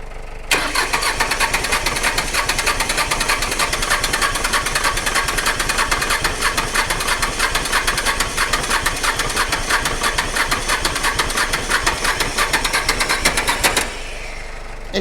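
A small Iseki diesel tractor engine is cranked over and over as it struggles to start, only half burning its fuel. The loud, close, rapid chugging runs continuously for about fourteen seconds before stopping.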